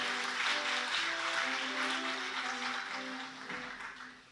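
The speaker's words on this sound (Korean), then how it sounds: "축하의 박수 보내주십시오." Audience applause at the 5th Dongmyeong Awards ceremony, a steady wash of many hands clapping that holds for several seconds and slowly fades, with music or tones underneath.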